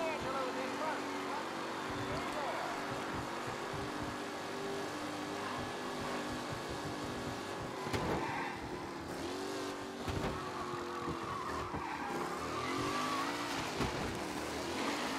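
A racing car engine in Mafia: Definitive Edition drones steadily with shifting revs and brief tire squeals, while a voice talks over it.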